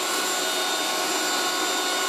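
A 1980s Moulinex handheld vacuum cleaner runs with a constant, loud, close-up whine and airy roar that holds steady throughout.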